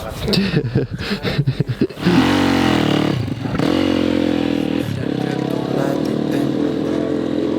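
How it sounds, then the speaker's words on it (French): A motorcycle engine runs steadily and loudly, revving up after a couple of seconds and holding a sustained drone with shifts in pitch, following a few brief clattery knocks at the start. "quand tu fais de la moto, bah, tu penses qu'à faire de la moto parce que tu peux pas penser à autre chose"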